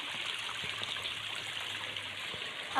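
Abundant stream water flows steadily near a remote mountain house in Puncak, a continuous bright rushing and trickling close by with no talk over it.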